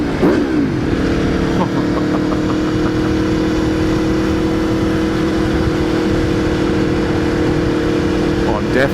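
Aprilia Tuono V4 1100 Factory motorcycle engine held at a steady, loud rev with a sustained tonal drone, slight throttle blips at start and end, under wind and riding noise.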